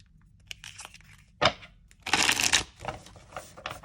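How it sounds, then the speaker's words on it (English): Oracle cards from The Witches Oracle deck riffle in quick bursts, with a crisp bridge-shuffle cascade and softer shuffling noises around it, close up and without speech. "Bridge shuffling is not a problem."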